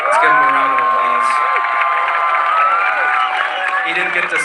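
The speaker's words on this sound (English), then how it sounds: "Let's give him a round of applause." A loud crowd cheering and whooping with sustained, dense noise throughout, likely including clapping, with shouted voices rising over the din.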